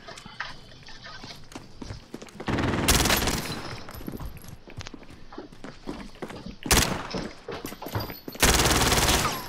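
PKM machine gun in Call of Duty: Modern Warfare rattles out loud sustained bursts, three main volleys separated by scattered single shots and clanks, amid battlefield noise.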